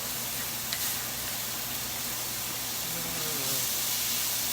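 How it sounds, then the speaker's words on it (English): Bone broth poured into a pan of sizzling onions and garlic, making a steady close hiss and sizzle that holds for several seconds without any talk. "we're going to add the bone broth to this, start getting the flavor into the onions and the garlic"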